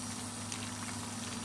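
Food for lunch boils in a pot with a steady, close bubbling and hissing that continues without break, with no talk.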